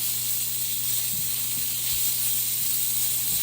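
Onions and meat sizzle steadily in a hex-clad frying pan, a continuous close hiss and crackle with no talking.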